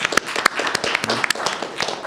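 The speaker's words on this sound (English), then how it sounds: "Give them another round of applause." A debate audience on national security and cyber surveillance claps in a short, loose round of applause, individual sharp claps standing out close by over a thinner crowd patter.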